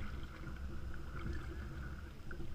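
A kayak is paddled across a lake in wind, with soft water swishes and low wind rumble blending into a continuous, moderately quiet outdoor wash.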